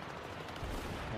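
A gunshot in an anime episode of Rick and Morty, a faint booming blast that swells briefly midway over a dense low background.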